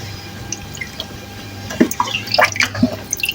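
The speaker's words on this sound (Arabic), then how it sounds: "عم نغسلهم هلا مي شرب" Chicken livers rinsed in water in a kitchen, with close, irregular drips, splashes and trickles over a quiet background, the wet sounds growing busier toward the end.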